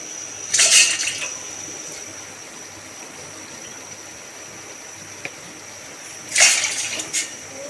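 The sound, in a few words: water being poured into a pot for heating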